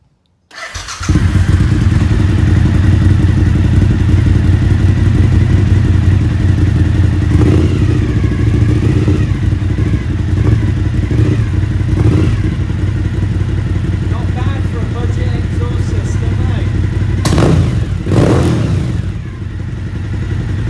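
A Suzuki SV1000 motorcycle fresh from an oil and air filter change fires up and settles into a loud, close idle, with a few revs toward the end.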